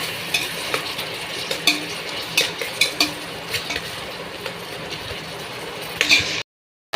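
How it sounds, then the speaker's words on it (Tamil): Tomatoes sauté in a pan for green masala chicken gravy, a constant close sizzle punctuated by repeated sharp spoon scrapes and taps against the pan before it cuts off. "நல்லா தக்காளி வதங்கட்டும் அப்போ தான் சூப்பராக இருக்கும்"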